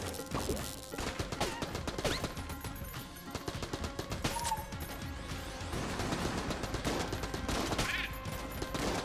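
Tommy gun firing in a video game, rapid bursts of gunfire mixed with crashing impacts and game effects, loud and dense throughout with no speech.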